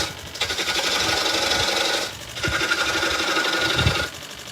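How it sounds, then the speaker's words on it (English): Oak being sanded on a wood lathe, a steady, close abrasive rasping hiss in two long passes separated by a brief drop where the paper lifts off the spinning wood. "A little bit of sanding for you then."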